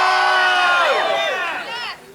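A studio crowd shouts, whoops and cheers loudly for a couple of seconds, the high excited voices overlapping and then tailing off abruptly at the end.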